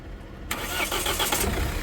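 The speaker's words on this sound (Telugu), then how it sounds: "సింగిల్ సెల్ఫ్లో కార్ స్టార్ట్ అవుతుందా లేదా అన్నది చూపిస్తాను స్టార్ట్ చేయ ఒకసారి" A 2017 Mahindra XUV500 W10 engine cranks once on a single press of the starter, catches at once and settles into a steady, close idle with no repeated cranking.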